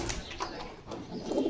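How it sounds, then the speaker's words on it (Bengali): Pigeons at a pigeon seller's shop in Bogura coo softly over a quiet ambient background. "আচ্ছা এই জায়গাতে আরেক জোড়া দেখা যাচ্ছে, এটা কি কবুতর?"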